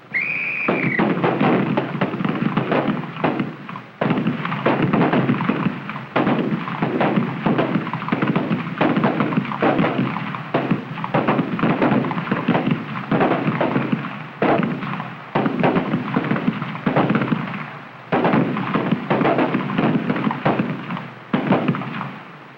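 Gunfire on an FBI firing range from around 1959, dense and continuous, with many shots cracking rapidly one after another from a line of shooters, loud and close throughout after a brief whistle at the start.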